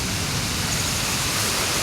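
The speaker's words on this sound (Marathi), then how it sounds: "देवा, बघा ना किती पाऊस आहे" Heavy monsoon rain pours down in a steady, dense roar, loud and close with no pauses, filling the whole scene like a constant wash of falling water.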